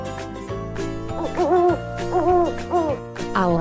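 An owl in a children's animal cartoon hoots in a short series of wavering calls, fairly clear and close, layered over a steady background music track.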